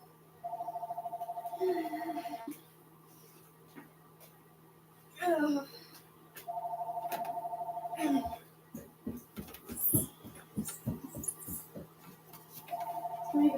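A telephone rings in repeated electronic bursts of about two seconds each, separated by pauses, heard indoors while people talk nearby.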